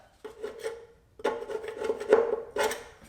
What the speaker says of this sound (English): and we will scrape off that side